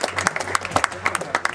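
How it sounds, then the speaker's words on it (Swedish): A small audience gives brief applause, a quick burst of uneven close claps heard alone. "gärna en applåd till"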